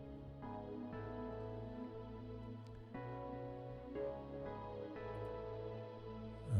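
Analog desk mix of stereo piano and synths with a synth solo, bounced to one stereo pair: sustained chords and a melodic lead line, quiet and even, with no talking.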